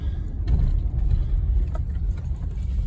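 A 2010 Honda Accord with an EGR fault that makes it hesitate at idle is driven slowly at around 23, producing a steady low engine and road rumble inside the cabin with a few faint clicks.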